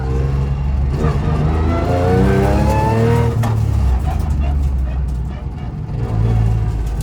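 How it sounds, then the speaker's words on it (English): A Ford rally car engine revs hard with a rising mechanical whine from the sequential gearbox, loud and close, with brief speech mixed in. "I love the whine of the sequential."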